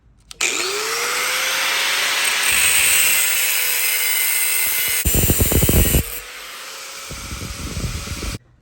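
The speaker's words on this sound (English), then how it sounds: "I continue to work the cutting wheel around that groove" An abrasive cutting wheel works around a groove in stainless steel exhaust tubing for a Harley flathead motorcycle, giving a loud sustained high whine that holds steady and then breaks into rougher grinding bursts near the end.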